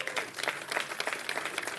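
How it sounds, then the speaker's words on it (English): Scattered applause from an audience at a mayor's public remarks, with individual claps audible in a loose, moderately close patter for a couple of seconds. "we should give them a big round of applause for that"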